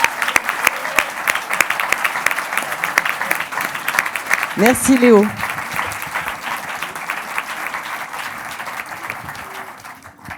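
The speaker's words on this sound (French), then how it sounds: "Je vous demande de l'applaudir." Audience applause at a film festival awards ceremony in Brive, a steady patter of many hands at moderate distance, with a brief spoken thanks cutting in midway and clapping continuing afterward.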